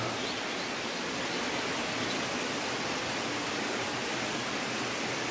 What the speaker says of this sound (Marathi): इकडे वॉटरफॉल पण हा छोटोसो. डोंगरावरनं पाणी येतं वाहून